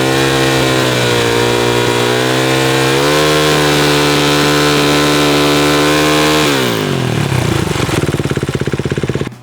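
Motorcycle engine revving loud and close through an FMF exhaust pipe, holding a steady high drone, stepping up in pitch, then dropping to a rough, pulsing idle near the end; no talk.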